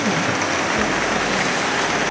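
Steady rain falling on surfaces nearby at a beach campsite on the Ningaloo Coast during a storm, a constant dense hiss with no talking.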